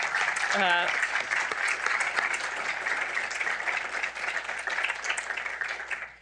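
Sustained audience applause thanks a panel at a conference on classical education, with dense, steady clapping filling the room for several seconds and a brief voice cutting in near the start.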